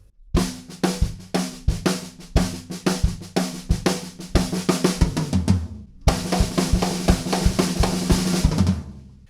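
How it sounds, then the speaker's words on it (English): Rock drum kit pattern in a punk style, with a fast snare fill rolling down the toms; hard, dense hits in a steady driving rhythm, close and loud, then a brief break and the full beat crashing back in. "The next fill I can hear is a big one on the snare drum"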